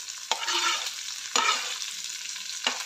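Chopped onion, carrot, tomato and green chilli for upma sauté in a pan, with three distinct spatula strokes over a soft, continuous sizzle, close and alone.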